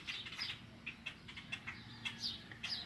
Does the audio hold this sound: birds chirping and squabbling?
yes